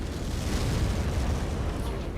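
A grenade explosion in MechWarrior 5, a dense, sustained rumbling roar of blast noise that stays loud and broad throughout.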